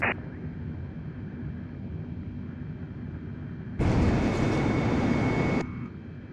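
Airbus A320neo jet engines spool up to takeoff thrust in Microsoft Flight Simulator, a steady low rumble that jumps to a loud, bright broadband roar for about two seconds before easing back, with no talk.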